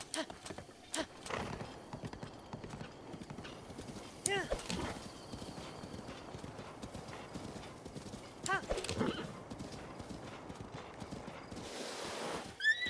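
In a video game, a horse trots and gallops with rhythmic clip-clop hoofbeats and lets out a short whinny near the middle, set against game ambience while people talk over it.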